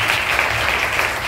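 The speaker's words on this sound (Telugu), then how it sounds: "ఇప్పుడు కొట్టు గట్టిగా చప్పట్లు." A church gathering's congregation claps hard together, a thick continuous roar of hands close by that holds level for the whole moment.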